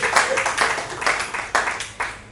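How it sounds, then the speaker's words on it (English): Audience at a university senior staff club public discussion clapping in a round of applause, several bursts of hand claps rising and fading, moderately loud. "Another round of applause"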